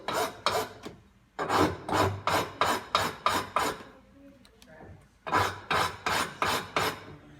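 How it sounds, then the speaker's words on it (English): A hand file rasps across a piece of pipestone, shaping and squaring the soft stone, in two loud bursts of rhythmic back-and-forth strokes separated by a quiet pause. "all you're gonna do is just take a file to it"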